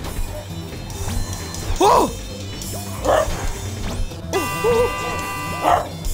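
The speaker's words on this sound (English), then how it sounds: "My dog's barking now." A pet dog barks indoors in several sharp, separate bursts spaced a second or so apart, fairly loud against a steady background hum.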